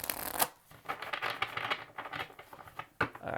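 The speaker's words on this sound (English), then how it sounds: "Last shuffle, please." A deck of oracle cards is shuffled up close, quick riffling bursts and soft slaps repeating in uneven rhythm.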